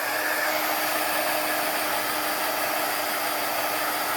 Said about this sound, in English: But then we'll hit it with our heat tool just a little bit.